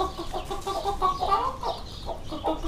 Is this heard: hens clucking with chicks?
yes